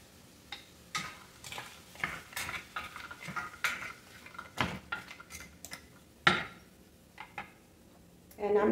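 Frozen vegetables tumble into a cooking pot with scattered clatters and ticks, several sharp hits and rattles against the metal, close and fairly quiet, with a couple of louder knocks near the end.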